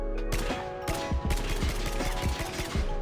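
SKS rifle fired from the hip without recoil control in Call of Duty Mobile, a rapid string of sharp, loud gunshots in close succession over a constant game background hum.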